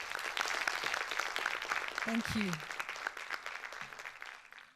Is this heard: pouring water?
no